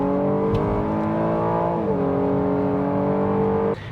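A car engine turns over and idles with a steady harmonic drone, its pitch dipping midway before holding level, then cutting off abruptly near the end; close and loud, with no talk.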